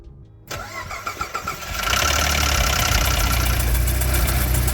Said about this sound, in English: This is what a cam phaser that's broken sounds like.